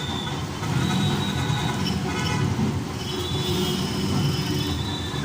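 A crowded city street in Manila jams up during a religious procession carrying a saint's statue toward Quiapo. Engines rumble in a dense, steady wash while several thin, sustained horn tones sound over the traffic.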